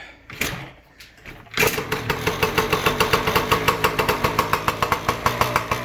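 A Yamaha PW80 dirt bike with a remote kill switch fitted, its small engine cranking and catching, then running on in a steady, rapid putter, close and loud, with no voices.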